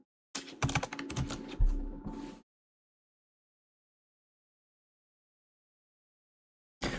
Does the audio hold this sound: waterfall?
no